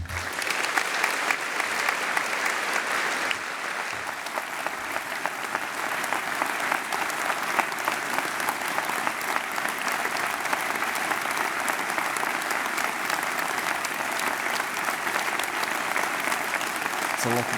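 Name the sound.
audience applause at graduation ceremony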